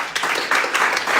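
Audience applause at an elevator pitching event, a short burst of steady clapping from a crowd at moderate distance, a bit over a second long.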